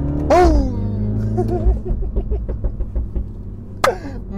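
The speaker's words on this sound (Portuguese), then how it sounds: "Incrível esta linha de escape, pá" A Mini JCW with 231 hp and a PRO exhaust system revs up loudly nearby and then settles into a rumbling burble. A second sharp exhaust bark cracks out near the end.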